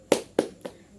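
Teacher demonstrating a rhythmic classroom clapping chant, three sharp hand claps in a steady pattern, close and fairly loud, with no voices during the claps.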